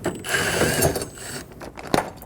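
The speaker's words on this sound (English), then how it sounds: "we're going to remove the two screws" A ratchet with a 10mm socket clicks while backing out screws on a 2008-2015 Scion xB car door, a close, loud run of mechanical ratcheting with a sharp click near the end.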